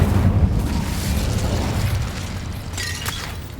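A fire spell blast is cast in the Hogwarts Legacy video game, giving a sustained rumbling whoosh that stays loud throughout, with a brighter crackling burst near the end.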